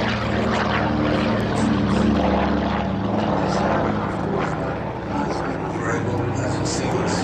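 A P-38 Lightning, a twin-engine World War II American fighter, flies overhead at the Duxford Flying Legends air show, its steady propeller-engine drone filling the air throughout at a fairly constant level with a slight swell mid-pass, while a commentator talks over it.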